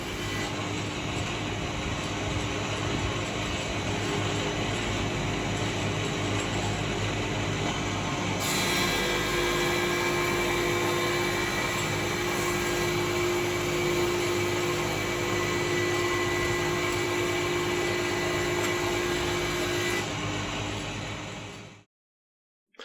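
A Sherwood 16-inch helical-head thicknesser planes a rough red gum slab, with dust extraction running: a loud, steady machine drone with a constant whine, heavier cutting noise partway through, then a sudden stop at the end.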